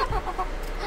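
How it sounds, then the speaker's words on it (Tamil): A newly bought chicken clucks softly in a few short, close bursts, kept near a fish tank setup, with no talk heard. "இப்பதான் புதுசா வாங்கின கோழி இது"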